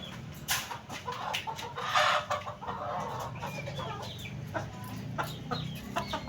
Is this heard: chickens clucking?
yes